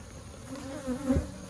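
Honey bees buzz steadily inside an open beehive during mite treatment, a continuous close drone that swells briefly near the end, with no talking.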